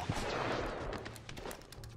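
A gunshot goes off in The Last of Us, a sharp burst near the start that gives way to rumbling game noise and scattered faint crackles.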